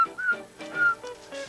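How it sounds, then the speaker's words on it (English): A person practices whistling, producing a few short, thin tonal notes up close, slightly wavering and broken by brief pauses. "I'm trying to practice whistling"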